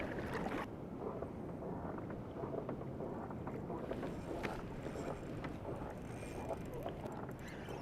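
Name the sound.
paddling a kayak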